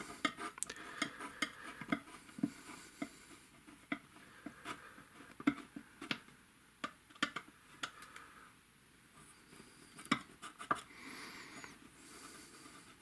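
A palette knife works glue under the bridge of a handmade octave mandolin guitar. Quiet, close scraping and tapping in irregular bursts, with soft clicks and rustles between them.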